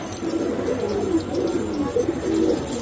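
Domestic pigeons cooing nearby in a steady run of soft, throaty coos that go on without a break, with a faint bright hiss running above them.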